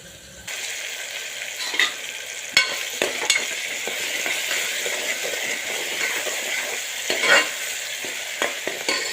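Tomatoes roasting in a pan for a green chickpea curry give a steady sizzle, with a few sharp clinks and scrapes of stirring over the top.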